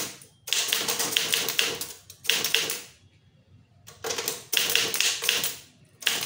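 Tamil letter being typed on a manual typewriter: brisk bursts of sharp key strikes in quick runs, separated by short pauses and a longer gap mid-way, close and clear with no voices.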